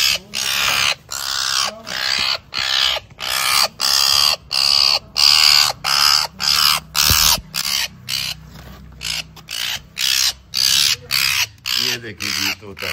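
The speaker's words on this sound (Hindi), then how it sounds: "ये तोते की मुसलसल आवाज आ रही है" A rescued parrot with something caught in its feet squawks loudly and repeatedly at close range, the harsh calls coming in a steady, evenly spaced rhythm, with people talking nearby.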